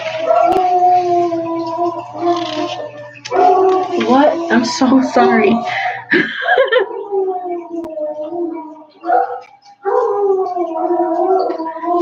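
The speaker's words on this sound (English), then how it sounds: "The dogs are barking." Several dogs in a yard bark and howl in long wavering cries, fairly loud and close, running through most of the stretch while someone speaks over them indoors.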